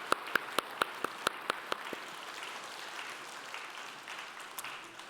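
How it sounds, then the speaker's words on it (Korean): Congregation welcoming new members at a Sunday service in a church in Daegu: a few crisp, loud claps open it, then a softer, scattered patter of clapping across the room that thins out. "우리 환영의 박수 하겠습니다"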